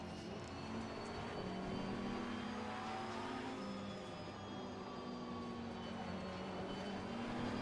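Race car engine in Assetto Corsa Competizione holds a steady, continuous drone with sustained harmonic tones, loud and unbroken throughout with no voices over it.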